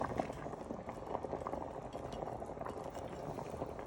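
Chicken vindaloo bubbles and simmers steadily in a pan as mushrooms go in, a close, continuous wet boiling hiss with no talk over it.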